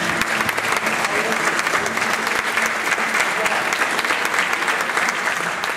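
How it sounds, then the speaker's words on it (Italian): Loud, sustained applause from an audience, dense clapping filling the whole stretch without pause. "facciamo veramente un grosso applauso ad Alex"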